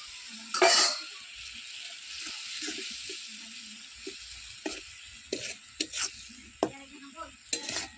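Masala with tomato being stir-fried in a pan for a chicken legs curry, a steady close sizzle broken by repeated scraping strokes of a spatula, with one louder burst near the start.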